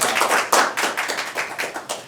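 A small audience at a principal's coffee gathering claps briefly, a few close, uneven hand claps with no talk over them.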